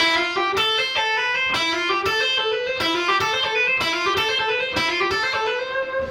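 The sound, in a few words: electric guitar lick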